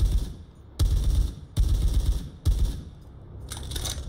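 A 12.5x55 rifle fires in Stalker Anomaly, four loud, close, booming shots spaced under a second apart, each with a sharp crack and a rumbling tail, then a quieter mechanical rattle.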